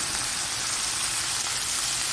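Grated Kerala coconut sautés in hot oil in a pan with onion and cluster beans, giving a steady, close, soft sizzling hiss with no talk.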